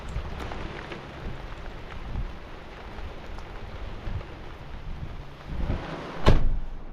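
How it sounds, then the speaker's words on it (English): Heavy rain from a storm drums steadily on a car during a river fishing trip, a dense continuous patter heard from inside the vehicle, with a sharp knock near the end. "The rain is coming down out there."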